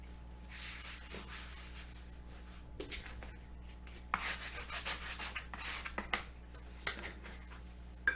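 Hamburger bun dough made with flour and yeast being shaped by hand, giving soft, close rubbing and patting sounds in irregular bursts over a quiet background, with no talking.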